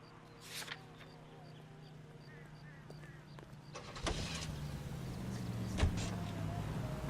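A car driven in L.A. Noire hums with a steady low engine drone, rising a little louder in the second half, with a brief thump near the end and voices talking faintly over it.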